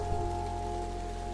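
Steady rain patters on a surface in a Spanish-language horror story reading, a dense even hiss with a constant low hum beneath, no voice over it.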